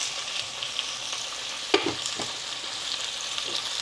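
A spoon scrapes and stirs turmeric, coriander-cumin powder and red chilli powder through a vegetable mix in a hot pan, a soft steady sizzle with one clear knock of the utensil midway.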